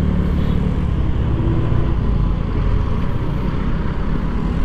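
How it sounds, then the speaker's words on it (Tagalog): A Velocifero Jump 3000W electric scrambler at high speed on thick tires produces a steady, loud broadband roar of tire and wind noise, continuous and unvarying with no voices. "kapag high speed ka, tumutunog yung gulong"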